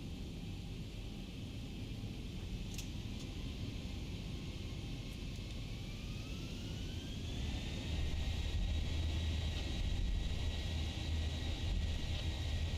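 A Boeing 737-800 spools its engines up to takeoff power in the X-Plane 12 simulator, a steady airy roar with a rising whine that climbs and then levels off, fairly quiet throughout.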